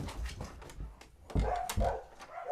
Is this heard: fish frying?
no